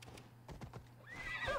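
Horse hooves clip-clop in a quick run of distinct steps in the video game Assassin's Creed Odyssey, followed by a horse whinnying, fairly close and clear over faint background ambience.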